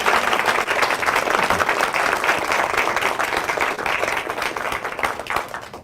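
An audience applauding at an annual educators' conference, dense sustained clapping from a large crowd, loud and close throughout, easing slightly toward the end.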